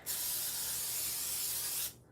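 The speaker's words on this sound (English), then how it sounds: "we're going to go ahead and spray this down." A cooking spray can sprays down a grill before a vegan seafood boil, one continuous close hiss lasting about two seconds and then cutting off, with no talking.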